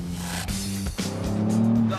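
A Ford Fiesta drives hard on a racetrack, its engine droning steadily with shifting harmonic pitch, a brief dip near the middle, and faint tire noise, close and continuous.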